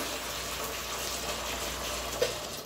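Half a can of water pours into a frying pan of sausage in tomato sauce, a steady close rushing splash that runs without a break under faint background noise.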